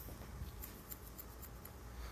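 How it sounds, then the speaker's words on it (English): Scissors snip hair during a short women's haircut, a soft run of quick, evenly spaced close cuts under low room noise. "I'm going to go back to my scissors"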